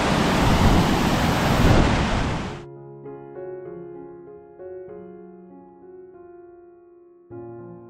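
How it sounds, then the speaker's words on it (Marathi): A huge forest waterfall near Badlapur roars with a loud, dense, rushing noise for a few seconds, then cuts abruptly to soft tonal music. "धबधब्याचा फोर्स तुम्ही पाहू शकता, किती मस्त वाटते."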